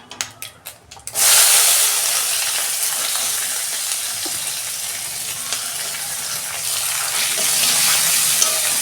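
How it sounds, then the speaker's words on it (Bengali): Onions hitting hot oil with a bay leaf, a few sharp crackles first and then a loud, continuous close-up sizzle that holds steady, with faint stirring and no speech. "দু মিনিট আমি পেঁয়াজটা ভেজে নেব"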